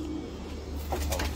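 A racing pigeon gives a short, soft coo close by against a steady low background hum, brief and faint with no talking.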